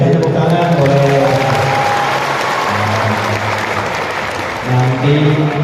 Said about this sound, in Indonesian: Kita tepuk tangan boleh.